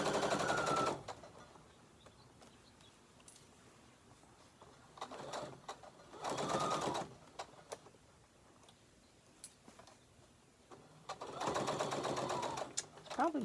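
A home sewing machine runs in short bursts, stitching fabric for a book sleeve with a well-used needle, its rapid mechanical whir starting and stopping between quieter pauses.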